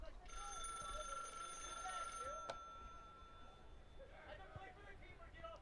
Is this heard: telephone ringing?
yes